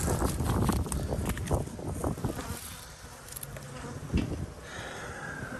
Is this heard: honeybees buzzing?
yes